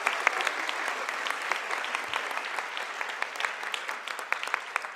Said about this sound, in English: give the first group of students a round of applause